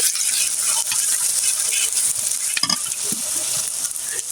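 Ginger-garlic paste and cumin paste fry lightly in a pan for a chicken curry, a steady close sizzle with scraping stirs and a brief clatter partway through, no voices.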